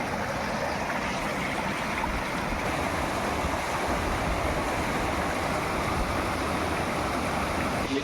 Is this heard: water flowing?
yes